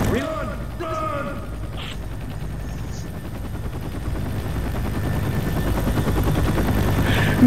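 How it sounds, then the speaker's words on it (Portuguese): A rescue helicopter in the Left 4 Dead 2 video game drones as a steady low rotor rumble under brief bursts of gunfire and game effects, with players talking over it. "já tô no helicóptero"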